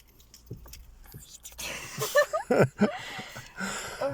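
A brief metallic jangle of car keys shaken near at hand during a driving lesson, set among soft voices and quiet handling noises.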